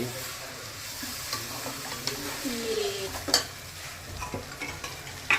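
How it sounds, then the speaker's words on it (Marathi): Rice is stirred into hot oil holding fried whole spices (shahjeera, cloves, cinnamon) for a home-cooked biryani, giving a soft steady sizzle under scraping spoon strokes and a couple of sharp clinks against the pot. "एक तांदूळ टाकून मिक्स होत आहे तेलामध्ये तळलेला मसाला मस्त आहे शहाजिरे लवण दालचिनी"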